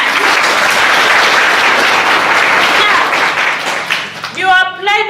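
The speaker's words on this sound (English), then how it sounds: "Can you clap for me for that?" Loud, dense applause from an audience honouring scholarship recipients at an award event, sustained for about four seconds before a voice begins speaking as it fades.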